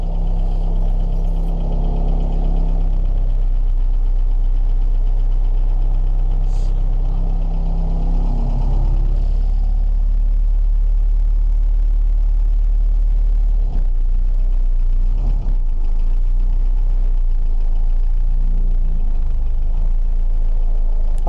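A Land Rover Series 2a 88 engine runs at idle, a steady, loud low rumble that stays close and constant throughout, with no talk.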